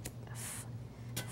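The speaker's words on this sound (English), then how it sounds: "I have some green chartreuse in a spritzer bottle here. And I'm gonna spray it into my glass" Two short, hissing spritzes of green Chartreuse from a small spritzer bottle into a cocktail glass, about half a second apart, close up over a low hum.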